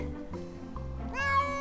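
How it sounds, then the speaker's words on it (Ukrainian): A cat meows once, a short plaintive call, then a longer, rising, drawn-out meow close by, loud and clear. "Це кіт."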